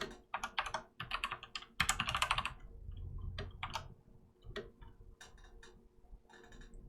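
Close, crisp typing on a brand-new computer keyboard: irregular bursts of clacky keystrokes with short pauses between them, some heavier clusters, and no voices.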